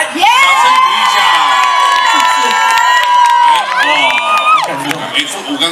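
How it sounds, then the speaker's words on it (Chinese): At an outdoor seaside music concert in Pingtung, Taiwan, a crowd cheers and claps loudly while a voice on stage lets out long, drawn-out shouts over the roar, the din easing slightly near the end. "掌声鼓一下"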